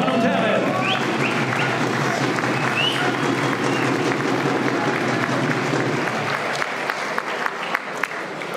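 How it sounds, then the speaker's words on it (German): A crowd at a professional boxing event in Stein applauds, with dense sustained clapping and scattered louder claps that taper off toward the end. "Kurzer Applaus, meine Damen und Herren."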